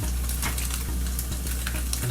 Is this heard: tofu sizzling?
yes